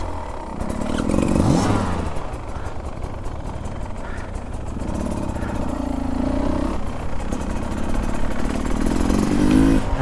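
A 2024 Beta 300 RR two-stroke dirt bike engine runs close by, buzzing and surging through throttle blips with a rising rev around the middle and again near the end, loud and continuous throughout.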